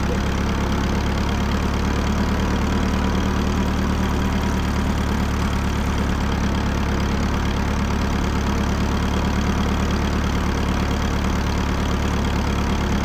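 A 1949 Farmall Cub tractor engine runs close by with a steady, loud, low-pitched chugging rhythm that holds evenly throughout, with no one speaking.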